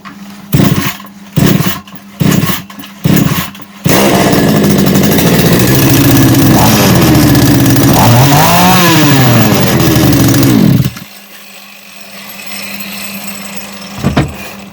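A GREEN GARDEN GCS 5020L chainsaw, with a worn cylinder and piston and play in its bearings, is pulled several times in quick sputtering bursts, then catches and roars loudly for about seven seconds, revving up and down before cutting off abruptly.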